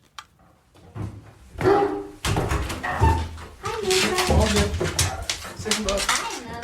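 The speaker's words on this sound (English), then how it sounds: "Dakota settles down his dog Mocha and shows me 2 rifles" A dog whimpers in a small one-room apartment above a garage in the Montana woods, with soft whines rising over a busy background of voices and household clatter.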